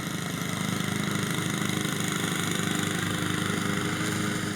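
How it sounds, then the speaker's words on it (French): A lawn mower engine runs steadily at a constant pitch, a continuous droning hum with no pauses, heard on its own without talk. "passer la tondeuse ne se fait pas n'importe quand"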